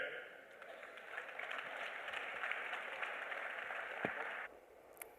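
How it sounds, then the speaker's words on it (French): Audience applause at a panafrican congress panel on Vodou spirituality and heritage, welcoming the panel rapporteur; a steady, moderately distant wash of clapping that holds for about four seconds, then cuts off abruptly. "Merci de l'applaudir, s'il vous plaît"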